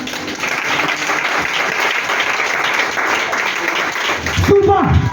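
A church congregation claps in praise during a sermon, a dense steady roar of applause from many hands filling the room before a voice breaks in at the end.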